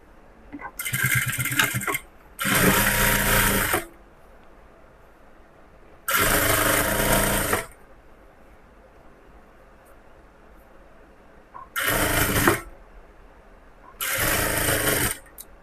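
A sewing machine stitching seams on a cross-cut blouse runs in five separate loud, steady bursts of a few seconds each, with near-quiet gaps between them and no talk.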